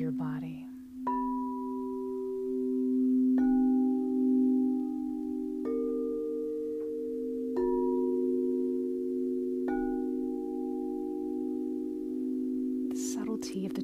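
Crystal singing bowls tuned to 432 Hz, struck one after another every couple of seconds, each clear sustained tone layering and ringing on into a long shimmering hum, close and alone.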